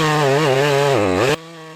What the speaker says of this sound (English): the chainsaw roars like a beast unleashed in the frozen wild